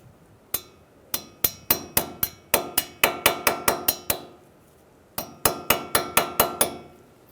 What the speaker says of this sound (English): Push it in nice and tight and hammer it down flat